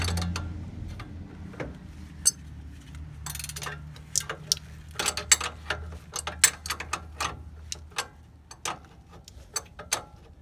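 A ratchet tightens a bolt on a Dodge Ram lower control arm, giving scattered sharp clicks that come irregularly in short runs over a low background hum, close but fairly quiet, with no talk.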